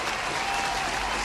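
Studio audience applause for a morning TV show in Pattaya, a dense, sustained burst of many hands clapping close and loud, with no speech over it.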